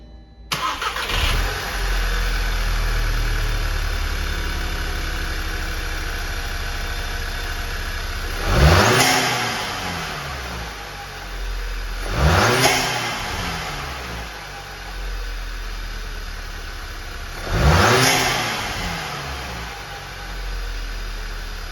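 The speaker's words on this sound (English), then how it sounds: "let me get the car started so you have a good sound of how it sounds" Volkswagen GTI fitted with an APR intake cranks and starts, then settles into a steady idle broken by three sharp throttle blips that rise and fall, close and loud with no talk.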